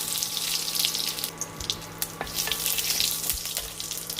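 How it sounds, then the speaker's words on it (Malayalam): Mustard seeds, curry leaves and dried chillies crackle and sizzle in hot coconut oil, a steady close frying hiss broken by sharp pops and spatters throughout. "ഒരു 2 ടേബിൾ സ്പൂൺ വെളിച്ചെണ്ണ ഒഴിച്ചിട്ടുണ്ട്. കടുക് ചേർക്കാം, കറിവേപ്പില ചേർക്കാം, അതോടൊപ്പം തന്നെ വറ്റൽമുളകും ചേർക്കാം."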